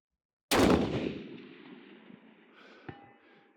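A single loud rifle shot from an NRL hunter rifle at an outdoor shooting range, a sharp close blast whose echo rolls away over a few seconds, followed by a faint metallic tick.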